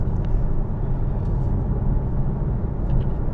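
A 2026 Alfa Romeo Tonale Sport Speciale cruises on the M4 motorway, heard from inside the cabin as a steady, even low rumble of road and engine noise with no talk.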